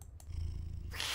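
Cat purring in a video game, a soft, steady low rumble close to the mic with a brief rustle at the start and end, no talking.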